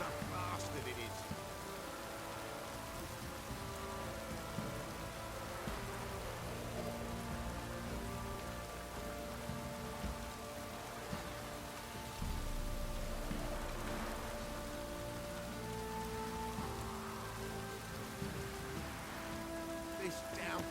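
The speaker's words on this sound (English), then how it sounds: "This downpour's a bastard, it is." Steady heavy rain pours down continuously in the video game The Witcher 3, a dense hiss of drops, with a faint low musical drone underneath.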